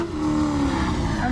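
Race cars brake hard at a Speed Stop Challenge on the LS Fest Texas track, a close engine drone with a sustained tonal whine and tyre noise over a short burst, with faint voices underneath.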